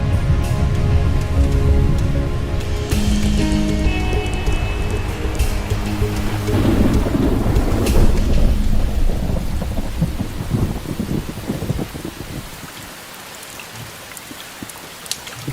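A monsoon thunderstorm over the Qinling mountains of central China: loud rolling thunder and steady heavy rain under a musical score that fades out partway through, leaving the downpour and rumbles alone.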